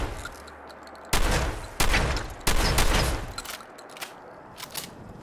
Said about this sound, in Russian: И сейчас от первого лица я постреляю здесь в асфальт